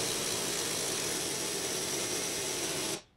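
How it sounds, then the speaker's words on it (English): A pneumatic air impact gun with a 15mm socket rattles steadily on a bolt during shock top mount work in a garage, one continuous loud hammering burst that cuts off abruptly near the end. "I've got the air gun, so let's hope this comes off."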